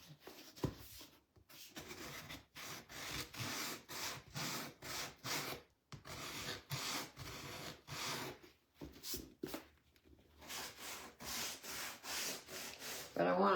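Dark wax rubbed by hand onto a wooden book box, a steady run of scrubbing strokes with brief pauses between passes, close and clear, with no voices.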